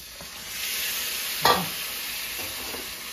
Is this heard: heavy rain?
no